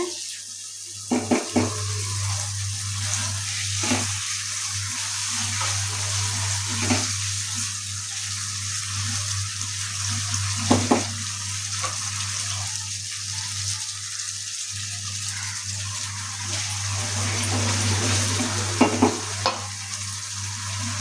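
Chicken sizzles steadily in a pan while a utensil scrapes and stirs at intervals, with a low hum underneath throughout.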